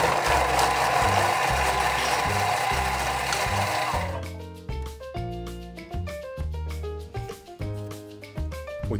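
A Thermomix TM6 food processor whirs loudly in sustained bursts while chopping mango salsa with honey and salt, then breaks into a choppy, pulsing rhythm as the motor starts and stops.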